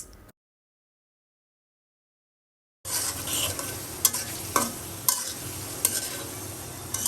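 Prawns hit a pan of spiced masala and fry. A few seconds of near silence give way to a steady close sizzle, and a spoon clanks against the pan and stirs several times.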